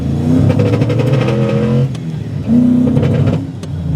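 A V8-swapped Nissan Skyline R34 on an early-stage tune revs hard in two loud, close bursts, rising engine pitch climbing through a gear, then dropping briefly before pulling again, rough and uneven.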